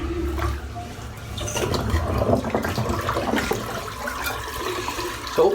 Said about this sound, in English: I'll just empty this bowl of water out.